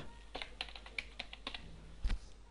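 A command being typed on a computer keyboard while drafting in AutoCAD 2012: a quick run of about a dozen light, close key taps, ending in a heavier keystroke, alone in a quiet room.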